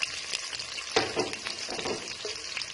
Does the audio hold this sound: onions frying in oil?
yes